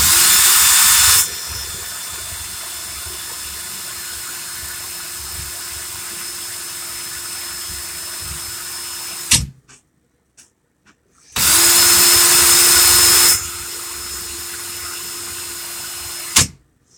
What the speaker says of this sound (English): put my drill in reverse, and loosen this Clapton.